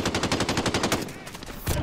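Loud, fast machine-gun fire in Call of Duty Warzone, a rapid evenly spaced burst of shots from an AUG rifle that cuts off midway, with a final shot at the end.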